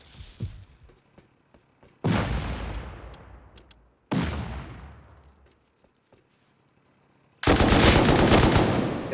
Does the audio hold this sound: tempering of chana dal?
no